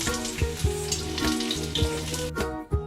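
Snake gourd fritters fry in a pan with a steady sizzle, loud and close, broken by several sharp clacks and scrapes of a utensil turning them.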